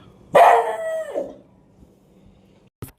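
A rescued dog gives a single close howl lasting about a second that tapers off into quiet, followed by a brief click at the end.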